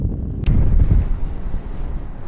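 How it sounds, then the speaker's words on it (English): Strong wind on a beach buffets the microphone in heavy, low gusts, with a brief sharp knock early on and the roar continuing throughout. "It is so windy, but how beautiful is this?"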